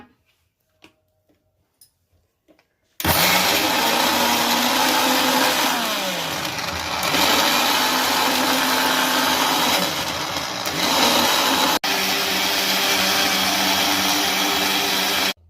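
A mixer grinder whirs loudly as it grinds dry coconut and cumin in its jar, starting abruptly after a few faint clicks and running steadily with slight surges in pitch before stopping at the end.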